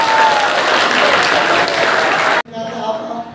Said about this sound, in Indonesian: Kasih tepuk tangan dong buat Rizik.